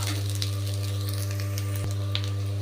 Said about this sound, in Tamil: கொஞ்சமாக அதை வதக்கிண்டு